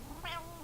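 A house cat gives a single short, faint meow, begging for food indoors, alone with no talk over it.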